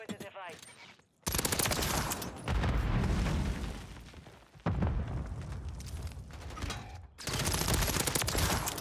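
Rapid automatic gunfire from a Renetti pistol in Call of Duty MW3 multiplayer, loud dense bursts of shots with booming impacts, broken by brief pauses, with some game noise between bursts.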